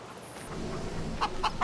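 Chickens in the Farming Simulator 25 video game cluck in three short, evenly spaced bursts near the end, over a steady low farmyard ambience.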